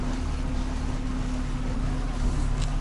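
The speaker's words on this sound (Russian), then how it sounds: "Ну все, двигатель прогрелся." A warmed-up boat engine runs at a steady idle on high river water, a constant low drone with a clear hum and a faint wash of wind over it, close and unbroken.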